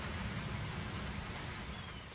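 Steady rain falls on a rainy day, making an even, constant hiss with a soft low rumble underneath and no voices.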